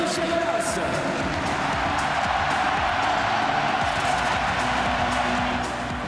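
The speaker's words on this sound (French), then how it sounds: "Sous un tonnerre d'applaudissements, le président Jean-Michel Aulas." Stadium crowd applauding Jean-Michel Aulas, club president, in a steady dense wash of clapping and cheering that holds throughout with a voice talking over it, easing slightly at the end.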